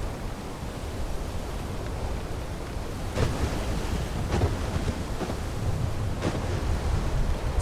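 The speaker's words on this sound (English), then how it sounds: "Oh, The damn waves and the rain." In the video game WILL: Follow The Light, rolling ocean waves and rushing wind-driven rain during a storm at sea form a dense, steady roar, with a few louder surges breaking through.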